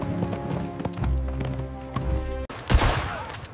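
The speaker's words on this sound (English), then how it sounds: "Benteen and his men marched toward the sound of gunfire" A burst of battlefield gunfire, evoking the Battle of Little Bighorn, cracks out loud midway after steady clip-clopping horse hooves and rumbling, with the shots and their echoing rush filling the last second.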